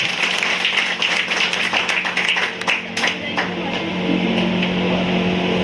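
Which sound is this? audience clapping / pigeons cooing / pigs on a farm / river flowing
audience clapping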